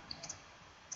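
Computer mouse gives several faint, quick clicks in a quiet room, with a soft double click at the very end.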